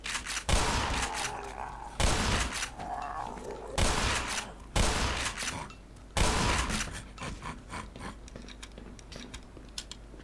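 Gunfire in Black Mesa comes as several loud, sharp shotgun-like blasts at regular intervals, each with a short rattling tail, a voice talking faintly between shots.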